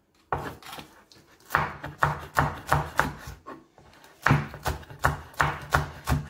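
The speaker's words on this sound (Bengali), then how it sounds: "দেখছেন, আমি কাটছি" Knife chopping chilies on a board, rapid rhythmic chops in two bursts separated by a short pause, close and crisp.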